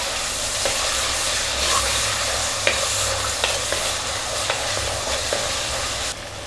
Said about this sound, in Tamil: இஞ்சி பூண்டு விழுது சேர்க்குறோம். சேர்த்து வதக்கி விட்டுறோம்.